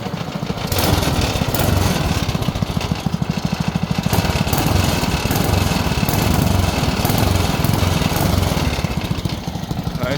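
A small Briggs and Stratton engine runs close by with a loud, steady, rattling drone, and the throttle slightly raises and lowers the pace.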